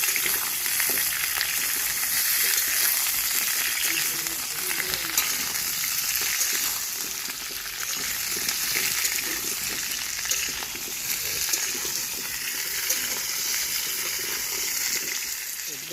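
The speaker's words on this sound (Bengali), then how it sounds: "তো আলুগুলো আমরা প্রথমে ভেজে নেবো, এটা দুবারে ভাজতে হবে, তো দেখতেই পাচ্ছ ভেজে নিই।" Potatoes fry in oil as the first step of a vegetarian village-style aloo dum, producing a continuous, fairly loud sizzle with soft bubbling and stirring underneath, with no one speaking.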